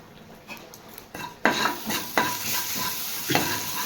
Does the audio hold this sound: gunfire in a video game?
no